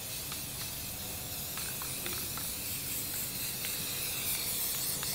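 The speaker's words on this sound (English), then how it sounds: "So I'm just gonna just spray it down a little bit." Spray paint cans hissing steadily as brown color is sprayed over a concrete turtle pond, a continuous close airy spray with a few brief pauses and nozzle bursts.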